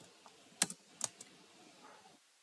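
Light typing of Java code on a computer keyboard, a few soft, scattered key clicks with two sharper taps, faint and close in a quiet room with no talk.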